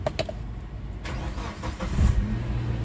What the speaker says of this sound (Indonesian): Terus kita nyalakan mesin